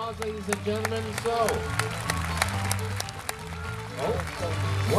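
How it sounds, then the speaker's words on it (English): An outdoor audience at an RCMP Sunset Ceremony claps during a dog performance, scattered sharp hand claps running beneath an announcer's continuous talk. "Big round of applause, ladies and gentlemen."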